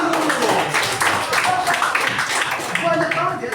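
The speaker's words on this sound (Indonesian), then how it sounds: "tepuk tangan dulu." A group of people claps in a quick, lively burst, with voices and chatter mixed in over the clapping throughout.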